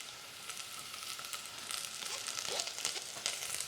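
Chopped onion sizzling in a hot buttered pan for white rice, a steady close crackling hiss with small pops and light stirring scrapes, no voices.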